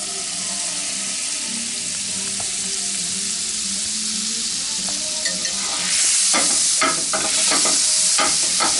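More than half a stick of butter melting in a pan, a steady close sizzle that swells louder partway through with crackling spits and scraping stirs.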